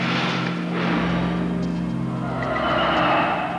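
A truck speeds off, its engine roaring loud and near with a tire squeal before it pulls away.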